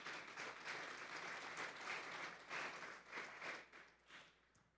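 Church congregation applauding, a crowd clapping steadily at low volume with slight swells, gradually tapering off toward the end.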